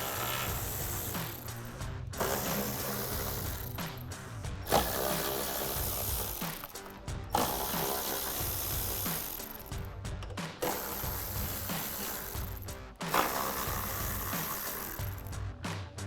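A ratchet wrench clicks steadily while loosening the six 10mm bolts that hold the stock headlight of a 2020-2023 Chevrolet Silverado 2500. The ratcheting runs in close, dense bursts with brief pauses between them, and nobody speaks.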